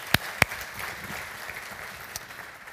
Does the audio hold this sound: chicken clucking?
no